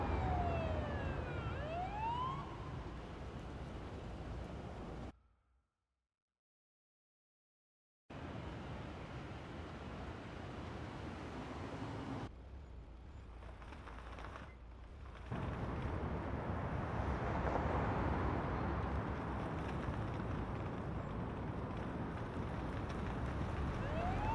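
Ambulance siren in the driving game Ambulance Life, with sweeping wails at the start over steady engine and road noise, then a silent gap and continuing vehicle sound.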